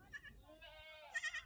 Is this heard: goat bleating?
yes